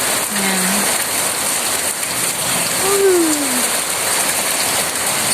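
Heavy rain pours steadily in an outdoor setting, a dense, loud, unbroken hiss of drops on surfaces with no voices over it.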